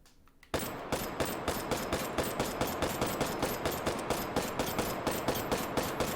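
Rapid gunfire in the VR shooter game Hot Dogs, Horseshoes & Hand Grenades, a sharp opening shot followed by a steady, evenly spaced burst of loud, close shots running nonstop.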